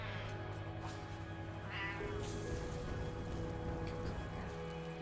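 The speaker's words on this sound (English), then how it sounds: "I heard another meow." A cat meows a few times in the video game Satisfactory, drawn-out mews over a steady droning hum of game background noise.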